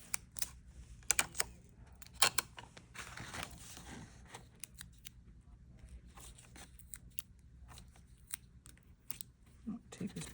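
Adhesive tape being pulled, torn and handled while making a half pipe, heard as scattered crackling rips and sharp clicks close by, with a voice speaking softly at times.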